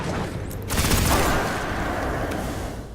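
Gunfire from the Eidolon Ally weapon in Destiny crackles as a dense burst of shots early on, followed by a sustained noisy wash of combat sound with no talk.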